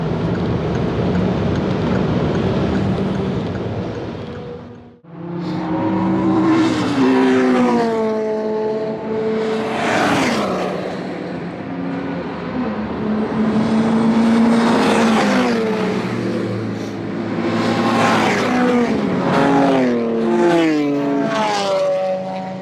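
A Peugeot 208 GTI races on track at Donington Park, its engine loud and close, revving up repeatedly through the gears, with one sharp dip at a gear change or lift.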